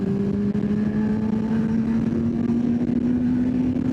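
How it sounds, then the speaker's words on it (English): Wind roars past a rider on a moving motorcycle with the original short windscreen, a loud, steady rush over the constant drone of the engine, with no voices. "the wind batters you on this bike"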